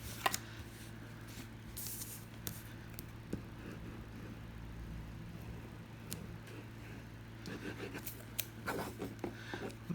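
Paper being cut with scissors for a small handmade money envelope journal, a series of quiet snipping and rustling cuts over a steady low hum, near and faint.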